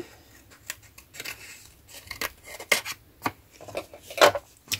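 Scissors snip through scrapbook paper in a series of short, crisp, close cuts spaced irregularly, with brief rustling of paper between them and no voices.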